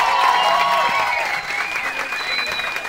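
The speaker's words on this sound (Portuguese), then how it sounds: "Aplausos pra eles, por favor" A crowd claps steadily at a live comedy show, the broadband applause dense and fairly loud throughout, easing only slightly partway through with no break.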